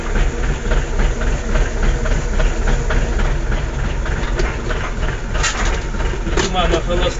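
A DTZ 5244 tractor engine idles with a steady, loud diesel rumble while its TS-63 hitch hydraulic cylinders work, a continuous mechanical drone throughout.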